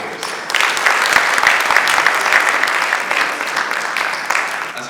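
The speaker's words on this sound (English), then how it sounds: "How about another resounding round of applause?" A loud, resounding round of applause from the audience at a business summit for SMEs and young CEOs, breaking in suddenly and sustained as dense, even clapping.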